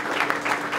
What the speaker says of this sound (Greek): θα ήθελα το ζεστό χειροκρότημά σας